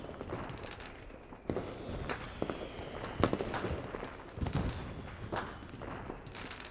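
Fireworks burst in a series of irregular booms and crackling bangs, some sharper and closer than others, over a rumbling background.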